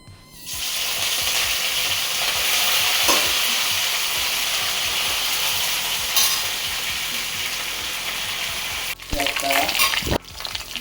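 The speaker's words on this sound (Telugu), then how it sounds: "ఆవాలు జీలకర్ర ఎండుమిర్చి పచ్చిమిర్చి కరివేపాకు తాలింపులు ఇవన్నీ కూడా వేసేసుకుందామండి" Mustard seeds, cumin, dried and green chillies and curry leaves tempering in hot oil, a loud continuous sizzle with spattering crackle, ending in a few sharp clatters of a utensil against the pan.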